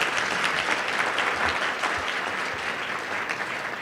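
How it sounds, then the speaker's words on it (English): Loud, continuous applause fills the room at a school award ceremony, many hands clapping together in a thick, even roar that eases off only slightly toward the end. "a round of applause for her mama,"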